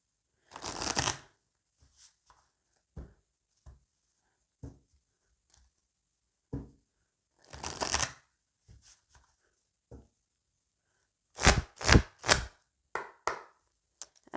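Oracle cards being shuffled and cut by hand in several short, crisp bursts of riffling and tapping, separated by quiet pauses, close up and with no talking.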